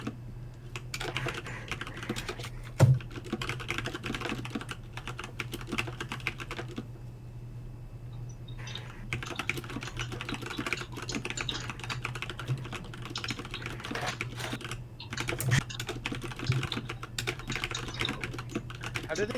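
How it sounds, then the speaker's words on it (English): Rapid typing on a computer keyboard goes on nearly nonstop under a steady low hum, with a brief pause partway through and a couple of louder knocks, and a voice now and then in the background. "Legit, I'm typing"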